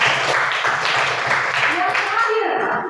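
Classroom children clap their hands together in a practice teaching lesson, a burst of many small hands patting in a fairly even rhythm for a few seconds, with youthful voices mixed in before it fades out.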